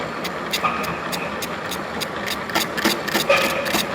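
A milling machine cuts an external keyway into a metal shaft, with a steady mechanical drone and repeated sharp rhythmic cutter ticks from close by.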